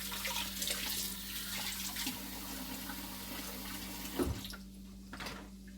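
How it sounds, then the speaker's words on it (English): Tap water running steadily into a sink while hands are washed during cooking, a constant close hiss with a low hum beneath and a few brief splashes and knocks, no speech. "So now, just wash your hands off."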